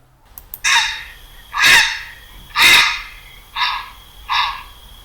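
Five short, harsh squawking flight calls from a grey heron, evenly spaced and fairly loud, the last two slightly softer.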